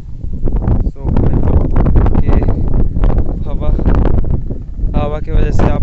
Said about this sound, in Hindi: बहुत हवा चल रहा है यहाँ पे।